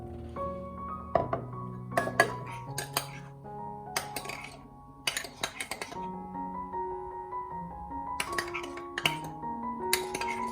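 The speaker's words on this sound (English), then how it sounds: "I'm going to mix them well together with the apples and the kohlrabi" Sauce is mixed with apples and kohlrabi in a bowl: irregular clinks and ringing taps of a utensil against the dish come in bursts, close and fairly quiet, with pauses between strokes.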